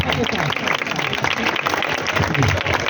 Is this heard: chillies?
no